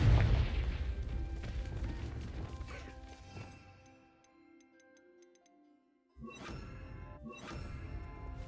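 Confringo spell blasts in a Harry Potter-style video game: a loud crackling explosion fades out into ticking, tinkling debris, followed by a quiet gap and then two more sharp bursts.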